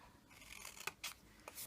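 Scissors snipping through the edges of a paper craft box, a few quiet separate cuts and rustles.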